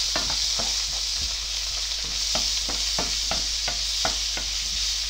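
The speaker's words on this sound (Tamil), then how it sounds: "ஸோ டொமேட்டோ பியூரி வச்சு நல்லா மிக்ஸ் பண்ணுவோம்." Tomato puree being stirred into onions and capsicum frying in a pan, a steady sizzle under repeated scraping strokes of the spoon at an even rhythm, close and with no talk.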